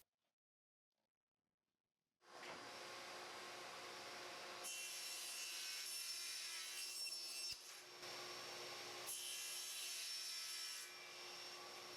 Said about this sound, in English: I can use my miter gauge to set up my miter sled and trim out those rails